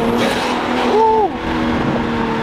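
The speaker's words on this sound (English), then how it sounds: "You hear the turbo?" Straight-piped BMW M340 engine revving close by, a loud raw exhaust note with a brief rising whine as the turbo spools and the pitch climbs then drops.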